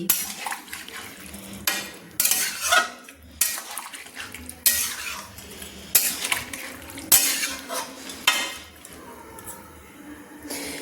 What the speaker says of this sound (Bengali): জল অ্যাড করে আমি খুন্তি দিয়ে নেড়ে নিচ্ছি